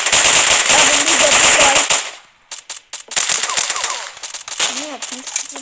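Rapid bursts of loud automatic gunfire in a shooter video game resembling Counter-Strike, a dense volley followed by a short pause and then further staccato shots, with voices talking over the shooting.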